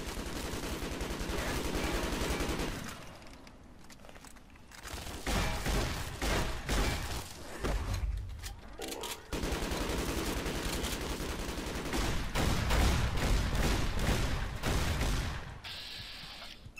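Gunfire in Fallout: New Vegas with a shotgun in play, loud bursts of rapid shots in several long stretches broken by brief quieter gaps.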